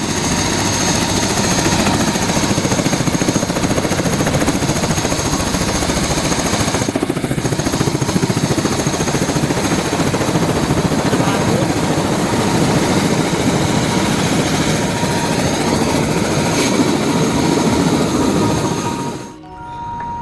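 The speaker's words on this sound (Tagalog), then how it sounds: "medyo malakas yung sound ng LEC ng helicopter, hindi naririnig yung audio namin dito" Helicopter ride over Queenstown, New Zealand, with the engine and rotor roaring loud and steady from inside the cabin for the whole stretch, briefly easing just before the end; no voices.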